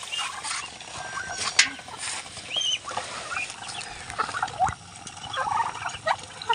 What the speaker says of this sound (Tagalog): Lakas kumain ni wild duck ah